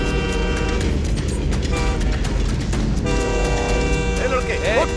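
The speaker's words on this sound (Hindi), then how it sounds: "ट्रेन आ रही है" In a Hindi-dubbed South Indian film scene, a train approaches on a railway track with a loud, continuous rumble, and its horn blares toward the end, with voices faintly mixed in.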